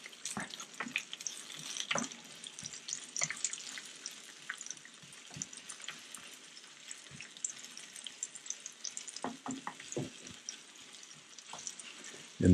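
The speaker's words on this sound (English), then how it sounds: "In the pan, keep stirring the spaghetti so it doesn't get stuck on the bottom of the pot." Spaghetti stirred in a pan with cutlassfish sauce, giving soft sizzling and scattered scraping, clinking utensil strokes at an irregular pace, fairly quiet and close, with a louder knock at the very end.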